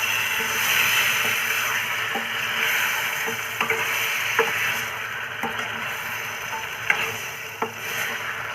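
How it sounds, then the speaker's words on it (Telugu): Washed raw chicken pieces sizzle steadily in a hot pan for a chicken curry, with a continuous frying hiss and occasional soft scraping taps as the meat is stirred, close and alone without talk. "ఇప్పుడైతే కడిగి పెట్టుకున్న చికెన్ అయితే వేసుకున్నాను"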